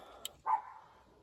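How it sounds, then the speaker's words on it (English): Dogs bark faintly at a distance, a single muffled bark standing out after a brief click, over a quiet background hiss. "Dogs don't quit barking,"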